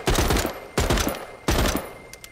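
Three loud, sharp gunshots roughly three-quarters of a second apart in the zombie survival video game The Walking Dead: Saints and Sinners, each with a short echoing tail.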